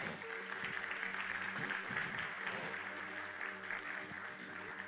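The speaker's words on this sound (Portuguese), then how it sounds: "Dá uma salva de palmas para ele." Applause from a church congregation, a dense patter of clapping that holds steady throughout at moderate volume.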